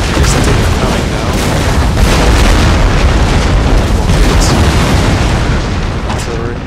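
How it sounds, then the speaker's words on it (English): Artillery fire in the Napoleon: Total War video game, with a dense, continuous rumble of booms and bursts holding steady throughout and overlapping into one loud, sustained battlefield roar; voices mingle into the din. "Artillery."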